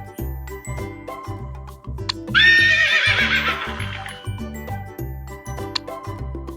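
A horse gives one loud, clear whinny of about two seconds over a steady bouncy music beat, with light jingling and hoof-like clip-clop around it.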